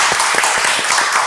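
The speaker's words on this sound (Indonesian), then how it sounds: "mari dulu kita tepuk tangan untuk acara yang luar biasa ini" An audience at a Mozart piano performance claps in a brief, close burst of quick, irregular hand claps.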